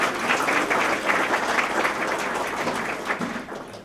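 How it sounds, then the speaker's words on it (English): Audience applauding steadily at a university social sciences student colloquium, a dense sustained clapping from a crowd that tapers slightly toward the end, with no talking. "Let's give them one more round of applause."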